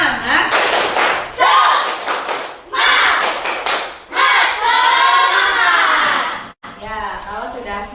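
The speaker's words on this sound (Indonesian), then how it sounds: "kita tepuk semangat dulu" Schoolchildren perform a tepuk semangat clapping chant in a classroom, with loud bursts of group clapping and shouted voices in rhythmic phrases, separated by brief pauses, close and energetic.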